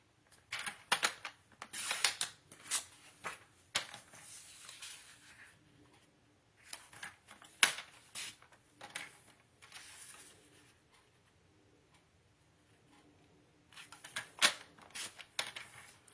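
Paper pieces for a Country Christmas scrapbook mini album are cut in short bursts of crisp snips and clicks, with pauses in between, close and fairly quiet, no talking.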